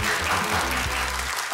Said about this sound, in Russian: Возвращайтесь к себе под аплодисменты нашей студии.